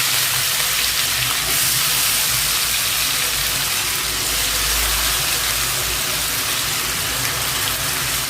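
Pieces of yam frying in hot oil with curry leaves, a steady close sizzle with a dense hiss and faint crackle that holds evenly throughout, with no voices.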